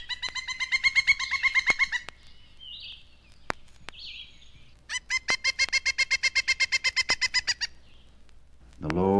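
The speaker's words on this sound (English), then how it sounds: "A pileated woodpecker calls loudly before going to roost." A pileated woodpecker calls loudly before roosting in evening woods, with two long bursts of rapid, evenly pulsed notes separated by a pause, clear and fairly close, over a quiet background.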